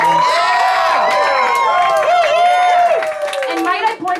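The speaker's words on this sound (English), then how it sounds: "Massive motherfucking round of applause for Jared Wilder." A lively comedy bar crowd in New York City claps and cheers loudly and continuously, with whoops rising over the steady applause before it starts to fade.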